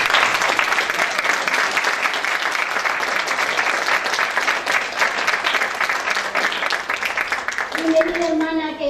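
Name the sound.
congregation applause welcoming a visitor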